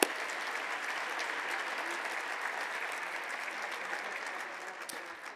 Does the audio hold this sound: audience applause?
yes